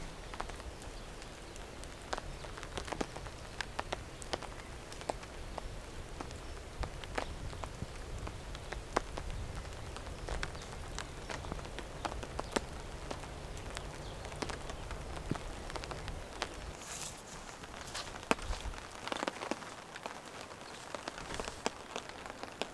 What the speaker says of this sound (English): As you might be able to hear, it's just spitting, sort of drizzling rain, but pretty consistent.